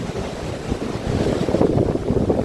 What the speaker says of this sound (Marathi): हे बघा समुद्र बघा, हो किती खवळला आहे